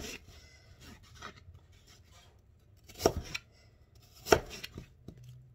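A knife slices through apples in sharp, close chopping strokes, two strong cuts standing out among lighter scrapes on a cutting board.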